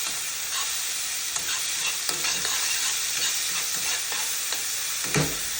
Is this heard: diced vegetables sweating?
yes